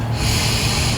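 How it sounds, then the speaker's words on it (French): A deep inhalation during a guided relaxation exercise, drawn as one close, steady, breathy rush of air that holds for about a second with no talk over it. "Et puis vous allez prendre une profonde inspiration."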